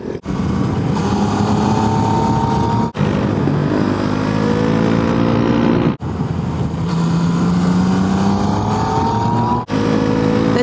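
KTM Duke motorcycle engine riding a mountain road in Sardinia, loud and continuous with rising and falling revs through gear changes, with brief cuts near three, six and nearly ten seconds.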